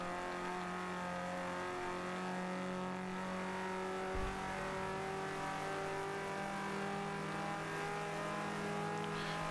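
A race car engine roars in the Forza racing video game, a sustained, steady drone with a constant pitch, briefly interrupted by a short thump midway and running loud throughout with no voices.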